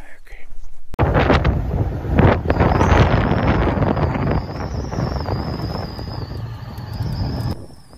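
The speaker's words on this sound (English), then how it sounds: "As you can see, it was extremely windy that day" Strong gusting wind roars across the microphone at Guadalupe Mountain National Park, loud buffeting bursts after a brief quiet start, with faint voices underneath.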